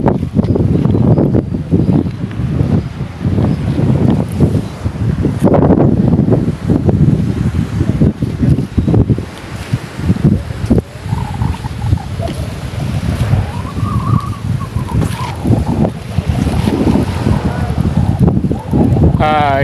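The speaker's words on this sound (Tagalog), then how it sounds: "Pahangin-hangin muna dito diba sa pantalan." Strong wind buffets the microphone at a fishing-boat pier, rumbling and gusting loudly throughout with low-frequency roar, while faint voices and water-side ambience sit underneath.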